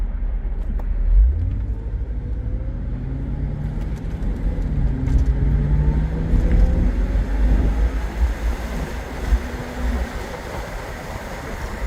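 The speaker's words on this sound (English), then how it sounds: "Hitting on the brakes." A 2001 Jaguar XKR driving at speed with steady road and engine rumble, gear changes shown as rising and falling tones, then slowing under braking; no talking.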